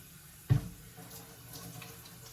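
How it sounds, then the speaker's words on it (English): Water from a kitchen tap runs while hands are washed after handling raw salmon, a soft steady splash with a brief louder gush at the start. "Wash my hands again because I touched that fish."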